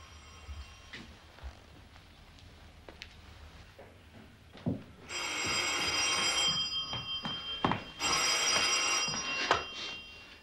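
A telephone rings with a bright electronic trill in two long bursts, separated by a pause, over clattering and knocking sounds nearby.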